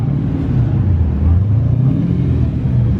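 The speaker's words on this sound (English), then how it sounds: "Matt Stevens there with his LS powered BMW, making some noise and some smoke" An LS V8-powered BMW drift car at a British drift championship event, its engine holding a loud, dense, steady roar close by, with no break through the short stretch.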